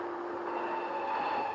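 A train passing at night in a 1937 film, a continuous rumbling roll with a sustained tonal whine, steady and fairly loud, without talking.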